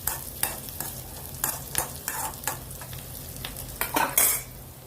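Green chilies and roasted gram are sautéed in a pan for coconut chutney, a low sizzle under quick, irregular scrapes and clinks of a spoon against the metal, close up.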